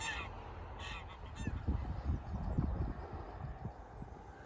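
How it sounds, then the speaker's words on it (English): A group of geese honking repeatedly in irregular bursts among sheep in a field, fairly close, with overlapping calls and a soft outdoor background. "These geese are just chillaxing with the sheep, but they're making a lot of noise about it"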